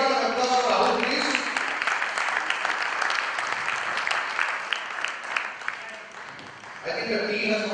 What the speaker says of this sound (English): Can we have a big round of applause for Rahul, please?